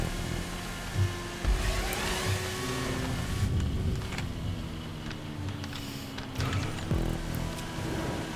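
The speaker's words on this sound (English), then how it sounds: "You can hear the engine." A car engine in a racing video game drones steadily with shifting pitch as it accelerates and changes gear, loud and continuous over background noise with no talk.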